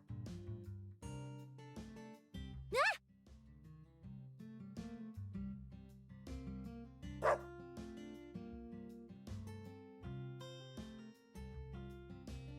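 In the video game Deadly Premonition 2, a dog gives two sharp, separate barks that stand out over steady background music.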